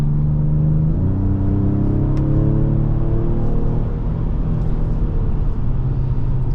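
A 2025 Ford Explorer ST accelerating on a highway ramp, its engine note rising through the revs with a steady rumble heard from inside the cabin, with no talking.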